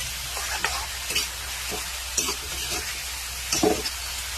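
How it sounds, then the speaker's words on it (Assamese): Vegetables stirred and tossed in a frying pan with tomato, salt and turmeric, a soft continuous sizzle broken by several distinct scraping strokes of the spoon, close and moderately quiet, no one speaking. "এতিয়া আকৌ ভালদৰে মিক্স কৰি ল'ম"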